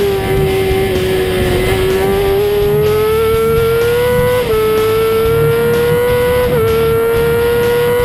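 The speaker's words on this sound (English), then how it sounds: "hard on the brakes and back down into second gear for the hairpin once more" A superstock racing motorcycle on the Knockhill circuit brakes hard and drops down through the gears into second for a hairpin, its engine note loud and close with a steady droning pitch stepping with each downshift, and no voices.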